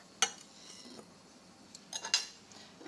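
Salty potatoes being lifted out of a pan with a utensil, a few sharp metallic clinks and scrapes against the pan separated by quiet gaps.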